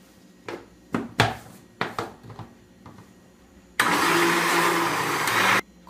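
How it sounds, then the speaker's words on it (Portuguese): A kitchen blender runs at full power mixing cake batter of eggs and green banana biomass for a peanut cake, a loud steady whir lasting about two seconds after some sporadic knocks and clatter. "E agora vamos bater no liquidificador."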